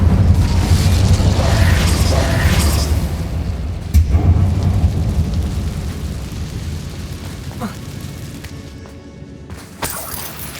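The Incendio fire spell in Hogwarts Legacy, cast inside a closed, tomb-like mine, bursts out as a loud, roaring rush of flame that holds steady and then slowly fades, with a few sharp crackles near the end.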